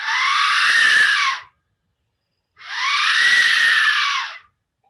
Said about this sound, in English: It's an Aztec Death Whistle.